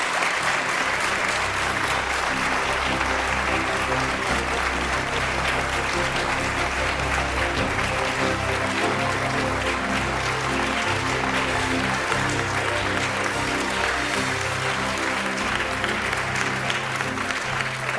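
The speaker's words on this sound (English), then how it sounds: "Let's give him a round of applause." A large audience at a political event in Kenya applauding a presidential candidate, a loud, continuous roar of clapping with crowd noise beneath it that holds steady throughout.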